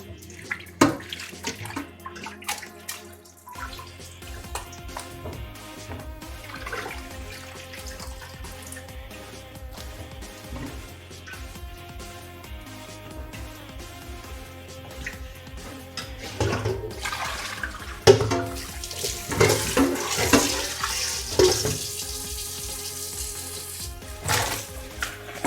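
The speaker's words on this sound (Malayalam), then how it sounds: "നമുക്കൊന്നും കൂടി കഴുകി സാദാ വെള്ളത്തിൽ കഴുകിയെടുക്കാം" Mutton liver rinsed under a running kitchen tap, water splashing and trickling steadily with occasional louder gushes and clatter near the end, no talking.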